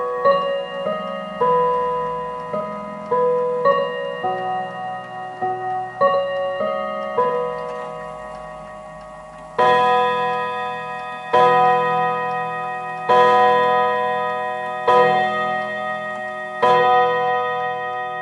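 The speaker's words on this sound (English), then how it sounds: "that was the 5 o'clock chime" An antique Enfield Westminster Chimes clock by James Walker Ltd plays its ringing Westminster chime melody, then strikes five resonant bell tones at the hour, evenly spaced and left to ring out, with no talking.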